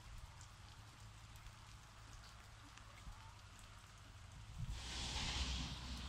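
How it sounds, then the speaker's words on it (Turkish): Rain falling on a farm, a steady soft patter with a low hum beneath, swelling into a louder, brighter hiss near the end. "Akşamdan beri çok güzel yağmur yağmaya başladı ve hala da yağıyor."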